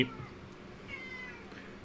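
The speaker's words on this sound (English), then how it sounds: "My cat is driving me insane for some other stuff" A cat gives a single short meow, mid-loud and fairly close, followed by quiet room sound.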